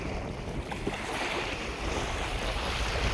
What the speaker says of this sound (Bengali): প্রচণ্ড হাওয়া বইতেছে,